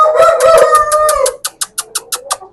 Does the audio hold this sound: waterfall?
no